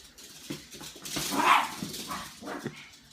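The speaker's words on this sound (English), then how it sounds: "And then she just barks at him" A dog barks a few times in short bursts amid room noise, fairly close, with some faint whimpering sounds.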